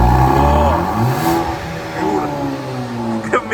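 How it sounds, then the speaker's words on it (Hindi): A Maserati Grecale luxury SUV engine revs loudly and close, the pitch sweeping up and settling over a few seconds, with voices talking over it. "ओह इंजन का वॉइस नोट सुनो गाइस"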